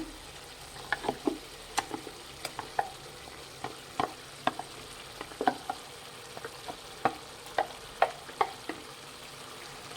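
Ground masala being stirred into chicken in a pan for capsicum chicken pepper fry: a steady run of clinks and scrapes from the spoon against the pan over a soft sizzle, close by, with no talking.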